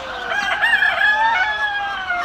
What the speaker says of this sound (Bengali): সবগুলা মুরগি কত সুন্দর আছে, সুন্দরভাবে ডাকাডাকি করতেছে